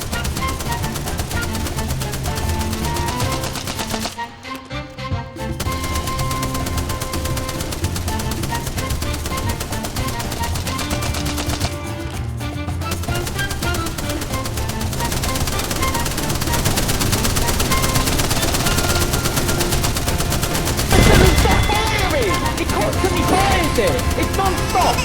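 Spitfire light machine gun in Apex Legends firing continuously, a dense sustained stream of rapid automatic shots with only brief breaks, loud and close amid constant game noise.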